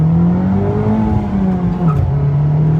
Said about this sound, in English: got a bit of wheel spin on